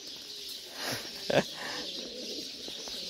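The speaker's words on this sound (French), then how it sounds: "Ici c'est sympa, les pigeons, ils sont de toutes les couleurs." Pigeons of many colours coo outdoors on a hike near the Rocher de la Vierge, a few soft, low calls with one clearer coo, fairly faint against the open-air background.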